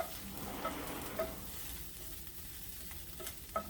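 Prickly pear and yucca flowers cooking in a pan, giving a soft, even sizzle close by with a few faint clicks of stirring.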